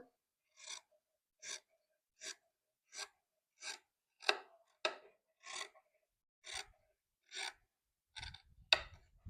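Scissors cut fabric pieces for a hand-worked neckline, making about a dozen crisp, evenly spaced snipping rasps at close range, each short and sharp, with quiet between them.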